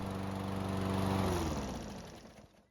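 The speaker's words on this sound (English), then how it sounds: "how long you should run the engine to warm it up" A Toro lawn mower engine runs steadily with a droning hum close by, then its pitch sags and winds down as it shuts off near the end.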